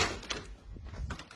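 An interior door into a modern kitchen opens close by with a short, soft bump and sliding sound in a quiet room.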